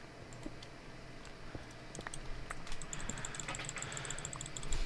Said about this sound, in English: What is that? Clicking. What are you clicking?